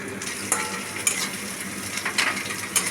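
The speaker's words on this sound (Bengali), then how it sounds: "পেঁয়াজগুলো আধ ভাজা হয়ে গেছে" Onions fry in a pan for a fish roe curry with ridge gourd and eggplant, giving a steady close sizzle broken by a few sharp stirring scrapes and clinks, with no talking.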